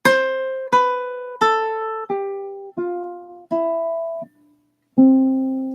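Ukulele notes plucked one at a time in a descending scale, about seven clear ringing tones in an even rhythm, the first ones loud and each following note softer, ending with a brief pause and a final louder strum, close and alone.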